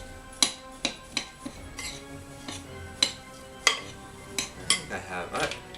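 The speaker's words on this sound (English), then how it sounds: "you want to give it a nice stir" Dry vegan granola ingredients, including hemp, stirred in a bowl with a utensil, a series of close, sharp clinks and knocks against the bowl in an uneven rhythm.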